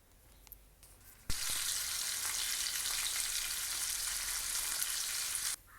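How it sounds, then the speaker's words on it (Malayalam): Mackerel hits the oil in a Chinese wok with a sudden sharp crackle, then fries in a loud, steady hiss for several seconds before cutting off abruptly; no speech. "മീൻ ഫ്രൈ ചെയ്യാനായിട്ടാണെങ്കിൽ ഞാൻ അപ്പുറത്ത് ചീനച്ചട്ടിയിൽ ഫ്രൈ ചെയ്യാനും ഇട്ടിട്ടുണ്ട്"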